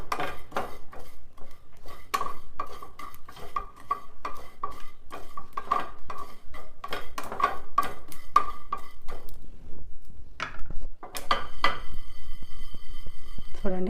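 Cumin seeds frying in a pan for onion chutney, mostly the steady clink and scrape of a metal spoon stirring against the pan, with a faint sizzle beneath and a voice speaking now and then.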